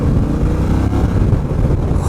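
Honda Rebel 1100 motorcycle accelerating hard, a loud, steady engine roar close by that holds throughout without a break.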